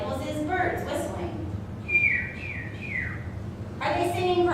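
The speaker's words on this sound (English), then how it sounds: "One of my favorite examples is birds whistling." Bird whistles sound in a short series of three descending whistled notes in the middle, set between stretches of bird chatter and busy chirping at the start and end.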